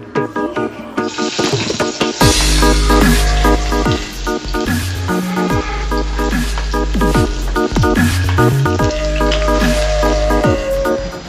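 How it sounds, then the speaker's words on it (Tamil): Ginger, garlic and green chili sauté in a hot pan for mushroom Manchurian, a steady hiss of frying running throughout beneath loud, prominent background music. "இப்போ இஞ்சி, பூண்டு, பச்சை மிளகா போட்டு லைட்டாக வதக்கிக்கலாம்."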